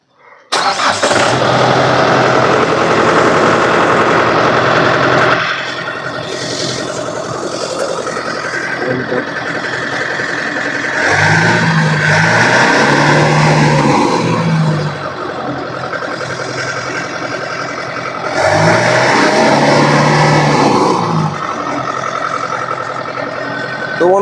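A new Kingdom harvester engine cranks and catches, then runs loud and close, with its roar swelling and easing in several strong surges over a steady mechanical rumble.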